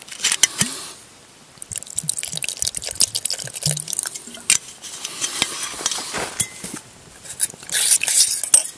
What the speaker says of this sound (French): mais je vais rajouter de l'eau.